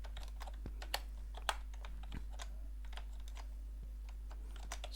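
Quiet computer keyboard keystrokes for copy and paste shortcuts, a sparse run of close, crisp clicks with a few louder taps over a low steady hum, no voices.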